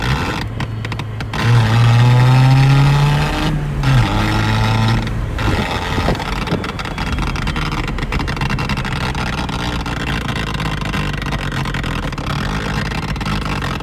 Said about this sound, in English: For a 4-cylinder, I think the nice quiet exhaust is nice.